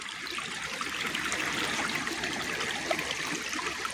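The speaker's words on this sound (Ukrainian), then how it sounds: "все так само спокійно тече ця річка" Water flows and trickles steadily, a soft continuous burble with small splashes, no voices.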